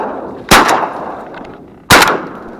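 Two sharp shotgun blasts ring out during a public land duck hunt, about a second and a half apart, loud and close with a short echoing tail after each.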